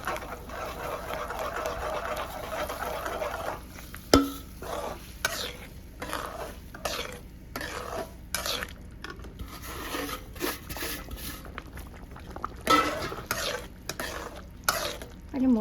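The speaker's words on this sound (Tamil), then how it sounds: "கொஞ்சமாக ரவை போட்டு கலரி விட்டுட்டே போடணும்." Semolina gets stirred into boiling water in a pan for Coimbatore-style vegetable rava kichadi, repeated scraping and swishing strokes of a spoon with soft bubbling underneath, close and without speech.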